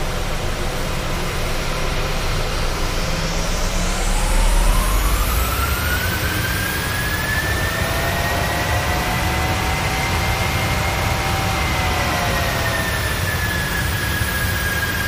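Aircraft jet engines spool up to thrust while the nose gear compresses, a loud continuous roar with rising whining tones that sweep upward and hold steady, no talk.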